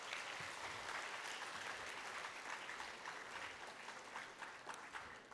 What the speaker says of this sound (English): Join me once again in thanking our esteemed chief guest with a big round of applause